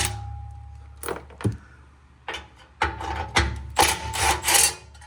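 A pneumatic impact gun works loose the 12 mm bolts on the skid plate of a Toyota 4Runner during an oil change. Short loud rattling bursts come up close against a faint steady hum.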